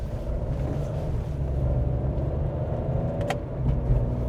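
A 3-cylinder turbo petrol car accelerates hard, its engine a steady low droning roar heard from inside the cabin, with a brief higher whine near the end and no talking.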